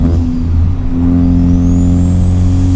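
A 400-horsepower Ford Focus ST accelerates hard on a backroad, heard from inside. The engine drones loudly and steadily while a thin high whine climbs in pitch over the few seconds.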